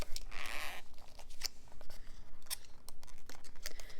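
A package is torn open by hand, no scissors, giving a quick ripping tear followed by scattered crinkles, scrapes and plastic rustles up close, with no voices.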